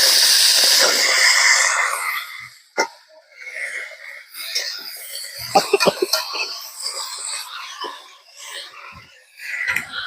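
Pumpkin pieces hit a pan of hot prepared spices for a pumpkin and shrimp curry, giving a loud sizzling hiss that fades over the first seconds, followed by scattered clinks and stirring scrapes.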